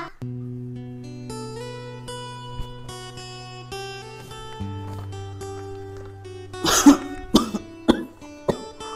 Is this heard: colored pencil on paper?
no